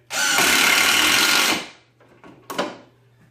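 A loud hammer drill bores into wood for about a second and a half, then winds down, followed by a short second burst of drilling.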